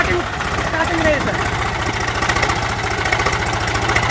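A Sonalika or Powertrac tractor diesel engine running with the brake pressed, a loud, close, steady throbbing chug with rapid regular firing pulses and a rough mechanical rattle throughout.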